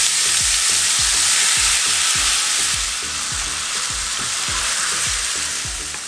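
Spiced moong dal drops into hot oil already seasoned with asafoetida and sizzles loudly, with a steady rhythmic tapping of stirring under the fizz throughout.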